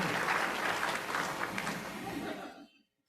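A meeting audience breaks into a warm round of applause, a dense wash of many hands clapping at moderate volume that fades away to silence near the end.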